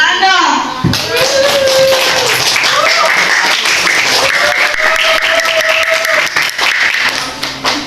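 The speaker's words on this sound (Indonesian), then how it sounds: "Tepuk tangan dong" Applause and clapping from a small audience of event committee members, steady dense patter throughout with people talking and calling out over it, fading slightly at the end.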